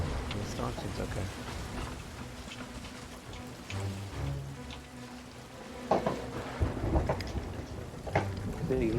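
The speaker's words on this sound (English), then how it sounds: "the storm seems okay." A thunderstorm at sea in Sea of Thieves, with steady rain hiss, low rumbling thunder and occasional splashing crashes, heard under ongoing voices talking throughout.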